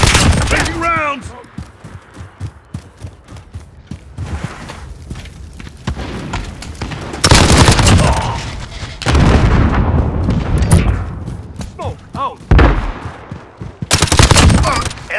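Call of Duty: Modern Warfare firefight with rapid bursts of automatic gunfire, heavy booms and sharp single shots, loud and close, coming in clusters separated by brief lulls, with game voice callouts between volleys.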